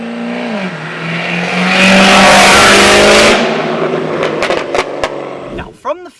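A supercharged 6.2-liter LSA V-8 Cadillac making about 600 wheel horsepower accelerates hard, its loud engine roar swelling and climbing up close before fading, followed by excited voices.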